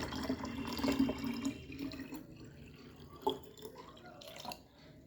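Water runs into a bottle being filled with drinking water, a continuous splashing trickle with scattered drips, close by and fading slightly toward the end.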